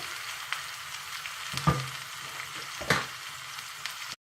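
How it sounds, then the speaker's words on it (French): Onions and peppers frying in olive oil give a steady, soft sizzle, broken by a couple of sharper clinks and stirring noises from a utensil against the pan. "خليه يتقلى شويه في زيت الزيتون"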